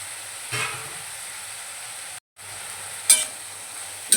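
Tomatoes frying in a pan for a ridge gourd and dried fish curry, stirred with a ladle: steady sizzle broken by a couple of scraping strokes and a brief gap.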